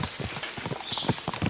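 A horse's hooves clip-clop at a steady walking rhythm in the medieval game Kingdom Come: Deliverance 2, fairly quiet and close, over a soft background bed.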